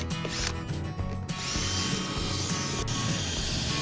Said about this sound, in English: just drilling the holes here